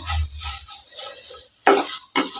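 Radish fry being stirred in a pan: soft scraping and sizzling give way to two sharp, close spoon-against-pan scrapes near the end, with no talking.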